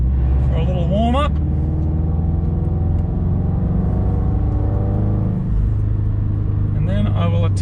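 A car pulls out onto the Luddenham race track for a warm-up, its engine a steady loud mid-range drone with rising revs at the start and end, close and continuous under a voice.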